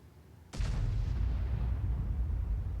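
A single artillery round fired in a tank video game, a sudden sharp blast followed by a long rumbling, booming tail that fills the rest of the moment after a quiet lead-in.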